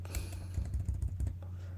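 Rapid keystrokes on a computer keyboard entering profile details, a quick burst of clicky taps over a steady low hum, close and moderately quiet.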